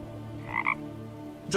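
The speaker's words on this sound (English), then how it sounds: "Was that a frog in the sky?" A single frog gives a short, distinct double croak, loud and close over a low steady background hum, followed by a brief faint sound.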